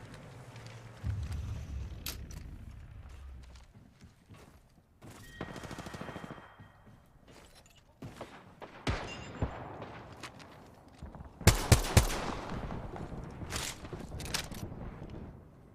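Gunfire in the video game Apex Legends, with scattered shots, short bursts and a sharp cluster of loud cracks near the end, set against quieter mechanical game sounds.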